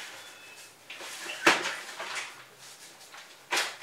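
Cupboard drawers are pulled open and pushed shut during a search, with a few sharp wooden thumps and sliding scrapes at close range in a quiet indoor room.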